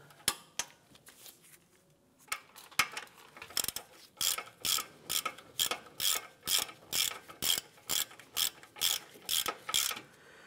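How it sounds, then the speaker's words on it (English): A ratchet snugging down bolts during parking brake shoe replacement on a 2015-2020 Cadillac Escalade, a few scattered clicks at first, then a fast, regular run of close, crisp ratcheting bursts. "With your ratchet, we'll snug these bolts down."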